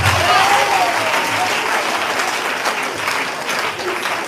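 Church audience applauding steadily at a testimony service, a dense wash of clapping that holds for several seconds and slowly eases, with a voice briefly audible over it.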